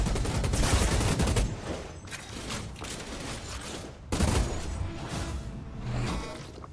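Sidearm gunfire in the Outriders video game, dense rapid shots in loud continuous bursts with a brief lull and a sharp new volley midway, backed by battle noise.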